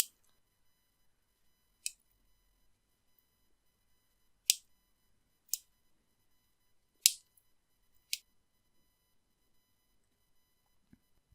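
Wire loops of Viking knit are snipped one by one, six crisp, faint clicks spaced irregularly across near silence.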